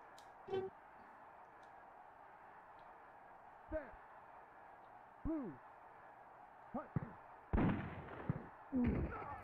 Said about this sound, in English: The gun is so loud and weird.